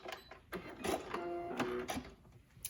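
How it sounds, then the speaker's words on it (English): A sewing machine back stitching a quilt seam runs in short bursts of quick mechanical stitching, close and fairly quiet, starting and stopping as the fabric is reversed. "Back stitch."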